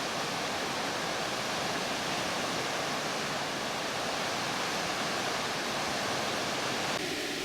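River water roars steadily over a weir swamped by September floodwater, a dense, continuous rush that stays loud and unchanging throughout with no voices.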